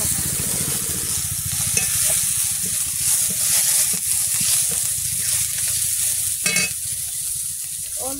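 A bay leaf fries in hot oil with cumin seeds in a pan, giving a steady close sizzle with stirring scrapes and an occasional louder crackle.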